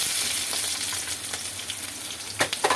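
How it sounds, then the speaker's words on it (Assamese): Chopped onions fry in hot oil with bay leaves and a little sugar, giving a steady, close hiss of sizzling with a few brief louder crackles and pops near the end. "অলপ পিঁয়াজটো এনেকৈ তেলত অলপ তেজপাতেৰে অলপ ভাজি ল'ব লাগে"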